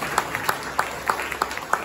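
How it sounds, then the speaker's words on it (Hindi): Audience applause at a Hindi poetry book launch, a sparse scattering of separate claps spaced roughly evenly over a steady room hiss, fairly close and moderately loud. "तालियां और भी तेज बजा सकते हैं"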